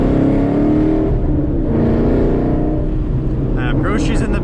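A car accelerates hard up a highway on-ramp, its engine roaring steadily and loud throughout, with a voice talking over the engine noise.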